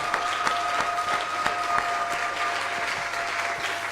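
A church congregation applauds together at Easter, a steady, dense wash of clapping with rhythmic beats, sustained and moderately loud throughout.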